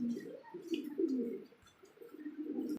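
Pigeons coo in low, throaty, repeated bursts close by, with several birds overlapping in a soft rolling rhythm and a short lull near the middle.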